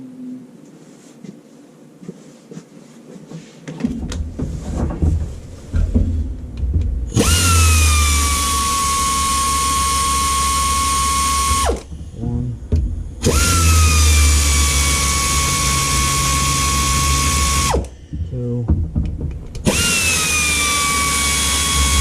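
A power tool works loose exhaust bolts on a 2011-2014 Dodge Durango during cylinder head removal. It runs in three long, loud bursts close by, each settling to a lower pitch, separated by short pauses.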